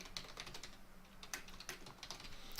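Quick, continuous tapping on a computer keyboard as a comment is typed, with closely spaced clicks over a soft background hum.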